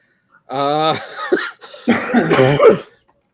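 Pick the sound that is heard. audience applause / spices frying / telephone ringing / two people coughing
two people coughing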